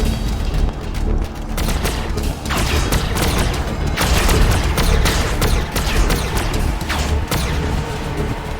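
Continuous gunfire and heavy booms from the video game Warhammer 40k: Battlesector fill the whole stretch as a dense, loud barrage of overlapping shots and thuds.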